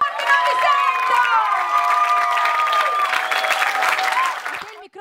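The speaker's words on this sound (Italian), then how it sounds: "per lei voglio un super, super, super applauso per Sonia Saccu" A live audience at an anime vocal contest applauds and cheers the winner, with loud, continuous clapping mixed with shouts and whistles, and a voice breaks through at the end.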